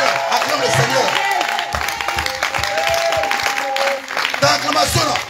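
Loud, sustained applause and cheering from a worship congregation during a fasting service, mixed with shouting voices and crowd noise throughout.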